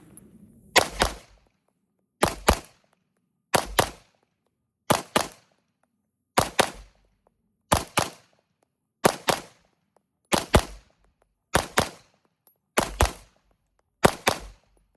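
A Sig Sauer P211 GTO pistol fires quick double shots at targets, about eleven sharp, loud pairs spaced evenly with short silences between them.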